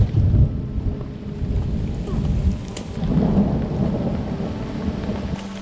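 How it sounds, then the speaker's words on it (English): Heavy rain pours down in a storm with deep rolling thunder rumbling through it, loud and continuous throughout. "It's been raining a little bit off and on, but nothing we couldn't handle. But this time it's really bad."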